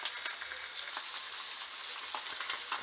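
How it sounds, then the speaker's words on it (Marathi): Batter-dipped bangda mackerel frying in hot oil, a steady bright sizzle with small crackling pops throughout, close and continuous with no talking. "आणि हे जे आपलं पीठ आहे त्या पिठामध्ये थोडीशी बुडवून नंतर तिला फ्राय करून घ्यायचा। आणि अशा प्रकारे आपल्याला तेलामध्ये सोडून द्यायची आहे।"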